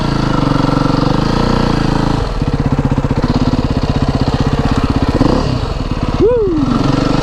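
A motorbike engine drones steadily and loudly while riding, its pulse quickening partway through, with a rising whine near the end.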